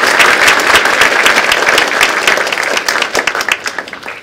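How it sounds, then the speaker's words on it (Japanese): Large hall audience gives strong applause at a community-building award ceremony for four prize-winning groups, a dense burst of clapping that thins toward the end into separate scattered claps. "受賞された4団体の皆様に今一度大きな拍手をお願いいたします"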